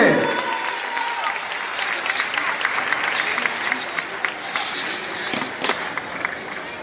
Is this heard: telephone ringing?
no